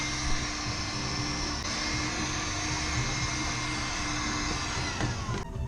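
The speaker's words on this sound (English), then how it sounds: "I need to hit the area with a vacuum. It's got a little battery." A small battery-powered vacuum cleaner runs steadily, sucking up dust during gas tank repair work on a Luhrs 28 boat, with a continuous close whine and rush that holds level throughout and no talking.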